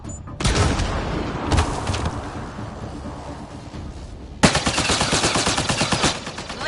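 Rapid video game gunfire rattles loudly in dense bursts, easing briefly mid-clip before a sharp fresh volley of quick repeated shots resumes and continues to the end, with no speech over it.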